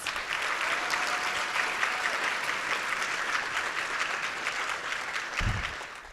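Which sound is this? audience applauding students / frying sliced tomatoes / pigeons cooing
audience applauding students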